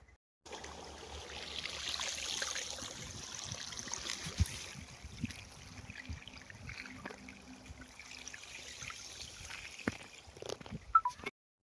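Irrigation water flows along a farm channel toward an onion field, a steady low gurgling trickle with faint splashing that continues throughout, with no voices.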